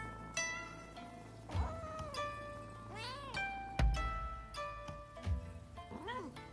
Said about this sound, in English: We've got cats. Look at all these nice cats.